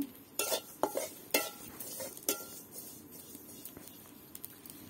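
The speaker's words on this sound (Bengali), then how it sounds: "তো কালো জিরা ভাজতেছি।" Black cumin seeds fry in a pan, giving a faint, sparse crackle with a few sharp scrapes and taps of a utensil against the pan, mostly quiet between them.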